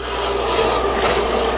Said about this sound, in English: I'll cut it a little big and just grind it until it fits.